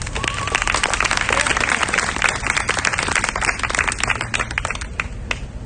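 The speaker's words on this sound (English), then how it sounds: "Can we give him a round of applause?" Audience applause at an outdoor book launch: dense, steady clapping from a crowd fills the whole stretch at even loudness, with faint cheering mixed in and no talking over it.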